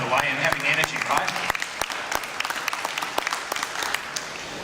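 A conference crowd applauds in scattered, distinct claps, fairly close and uneven, while a voice continues speaking over them.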